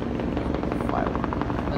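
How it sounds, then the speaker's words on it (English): A helicopter flies overhead during a Fourth of July fireworks display at a halftime event, its steady rotor drone running continuously and fairly loud throughout, with crowd voices and talk mixed in. "That's the helicopter."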